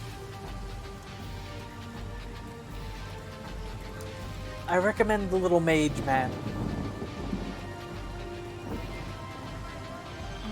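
Rain and a rolling thunder crash in a video game, a steady hiss of rainfall with a loud rumble swelling midway, while someone talks over it.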